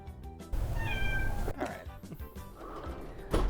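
A pet cat named Dink meows a few times, drawn-out and plaintive, fairly close and clear, with some room noise and rustling around the calls.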